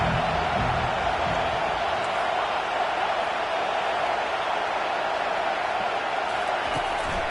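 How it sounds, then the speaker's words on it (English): A football stadium crowd on third down sends up a steady, loud, sustained roar of cheering and noise with no letup throughout. "Decibels rising as the crowd gets behind this defense on 3rd down."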